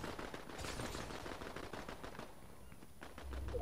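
Fast automatic gunfire in Fortnite Zero Build, a dense stream of rattling shots at moderate distance that eases off briefly before picking up again.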